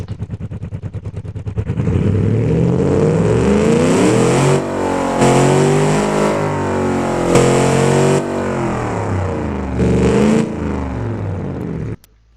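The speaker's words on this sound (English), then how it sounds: "Give the engine a little bit of a test." A car engine in the Automation/BeamNG driving game revs hard and loud for about ten seconds, its pitch climbing and falling through repeated throttle blips and gear-like steps before cutting off abruptly.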